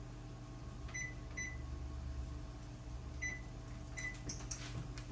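A kitchen oven's control panel beeps several times, short high electronic tones arriving in small pairs and clusters over a low steady hum, faint and close, with a soft clatter near the end.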